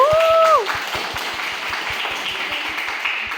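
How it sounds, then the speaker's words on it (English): An audience at a teen workshop gives a round of applause, with a short whistle or cheer at the start, then steady, even clapping that continues at a moderate level. "Let's give it a round of applause."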